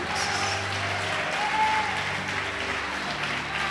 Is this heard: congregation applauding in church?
yes